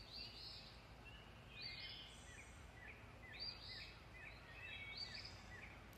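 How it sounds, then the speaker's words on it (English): Several birds sing and chirp in the early morning in Shenandoah National Park, with repeated short bright phrases at moderate distance over a quiet, steady background. "Me and Banoosh are out listening to some birds."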